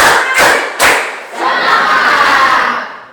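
A classroom group claps together in a counted rhythm, with two or three sharp, loud bursts of clapping followed by a longer spread of mixed clapping and voices.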